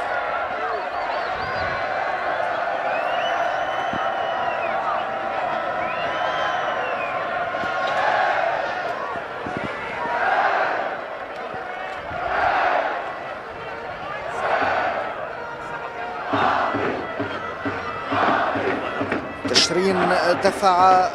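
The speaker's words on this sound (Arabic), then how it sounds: "استمعوا إلى الجماهير فهي بالتأكيد أجمل من أي تعليق" Crowd in a football stadium cheering and chanting after a goal in a league match, a loud sustained roar with rhythmic surges and swells, building to a final burst.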